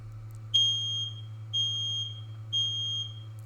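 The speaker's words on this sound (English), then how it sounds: "I actually was just pushing the test button to get the alarm to sound." A smoke alarm sounds after its test button is pressed, giving three loud, piercing electronic beeps about one second apart over a low steady hum.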